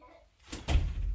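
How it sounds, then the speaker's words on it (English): A door pushed shut in a home, one solid thunk with a brief rattle after a faint approach, close and fairly loud, no speech over it. "James, close the door, please."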